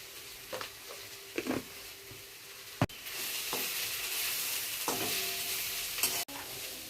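Onions frying in oil with salt in a pan, a steady close sizzle broken by a few scraping stirs, with no talking.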